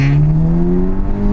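Audi TTS pulling hard in second gear around 3000 RPM, a steady rising engine drone with a strong harmonic tone climbing in pitch, close and loud inside the car with no talking.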